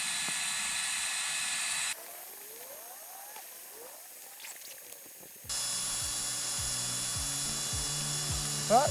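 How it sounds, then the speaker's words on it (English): A tiny mini electric pump inflates camping gear at a wild camp, its steady motor whine and airy hiss sounding close and loud, cutting out partway through, then starting again with faint ratcheting clicks. "It's a tiny little mini electric pump."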